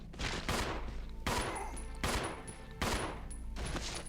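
Gunfire in the Resident Evil 0 2016 remaster game, several loud close bursts of shots in an uneven rhythm, with no talk over them.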